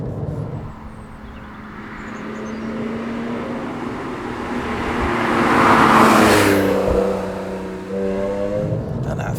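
A Porsche 997.2 911 Carrera 2 S engine hums and rises in pitch as it accelerates, swelling louder mid-way before easing off, heard from inside or close by.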